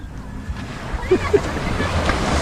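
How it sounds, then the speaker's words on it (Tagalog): Ocean waves wash onto a sandy beach in steady broadband surf noise with some wind buffeting, while a voice exclaims briefly over it. "Yan ang alon."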